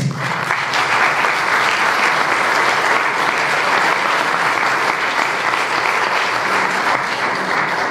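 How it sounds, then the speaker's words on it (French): Sustained audience applause at a French political party federal council speech, a dense, steady wash of clapping that stays loud and even for the full duration with no speech over it. "Vous pouvez applaudir aussi les commerçants."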